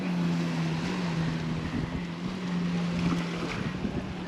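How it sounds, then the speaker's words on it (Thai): A Thai fishing boat's engine hums steadily over wind and lapping sea water, with a constant low drone throughout and no talking. "นี่เรือหาปลาของชาวประมงนะครับ"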